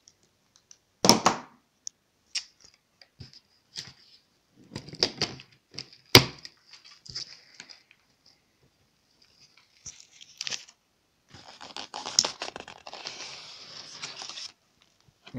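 Cardboard packaging of a Lenovo computer being opened, with sharp tearing, crunching and clicking of cardboard in short separate bursts, close and fairly quiet, with pauses between.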